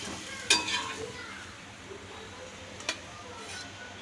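A ragi rava dosa cooks on a pan with a low, gentle sizzle, broken by two sharp utensil clacks against the pan early and midway.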